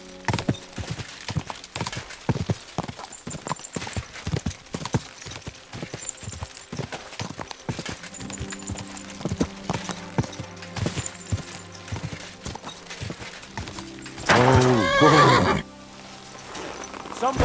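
A horse in the video game Kingdom Come: Deliverance 2 makes rhythmic hoof clip-clops, first quick then slower, close and clear, with a loud drawn-out neigh near the end and some speech between.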